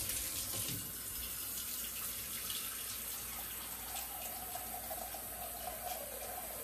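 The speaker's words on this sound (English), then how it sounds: "So I'm gonna add some water to this pan." Water runs from a kitchen tap into a pan for a brine of pickled red onions and garlic, a steady close rushing stream that shifts slightly in tone as the pan fills.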